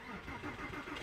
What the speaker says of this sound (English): it's got a real growl when you start it